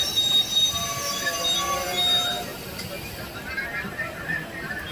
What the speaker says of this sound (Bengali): এই যে ট্রেনটা সিগন্যাল না পেয়ে মনে হচ্ছে দাঁড়াবে।